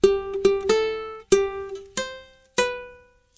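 Ukulele picks out the opening phrase of Happy Birthday, six clear plucked notes in a short uneven rhythm, each ringing and decaying, close and alone with no voices.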